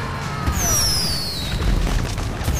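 Video game fireworks burst in a run of booms and crackles, with whistling streaks trailing over them, sitting at a moderate level with no one talking.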